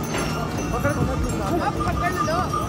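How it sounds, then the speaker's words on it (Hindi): Horse hooves clip-clop along the Kedarnath mountain trail in Uttarakhand, a steady walking rhythm heard close by through a busy wash of background noise and voices. "अभी आप देख सकते हैं हम फिर से घोड़े पे बैठे"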